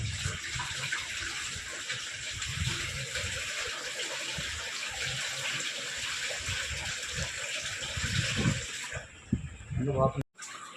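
Water poured into a new Bajaj air cooler, a gushing, splashing pour into the tank that swells and sputters toward the end, with a person talking over it.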